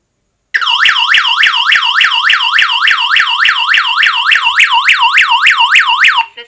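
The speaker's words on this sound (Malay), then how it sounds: "sekarang saya akan cuba untuk tekan button SOS, sama ada tekan kat sini ataupun tekan kat sini, sama aja, kita akan dengar bunyi dia punya siren tu" A wireless home alarm system siren sounds after its SOS button is pressed: loud, fast, rising-and-falling electronic warble sweeps repeat continuously for about six seconds, then cut off abruptly.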